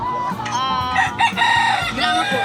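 Brahma chickens at a busy pet market crow and cluck in drawn-out, harmonic calls, close and loud, with other birds and faint crowd noise around them.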